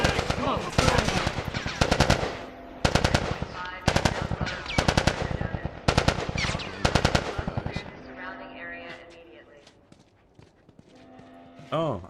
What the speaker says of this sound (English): Fireflies! Fucking shoot them!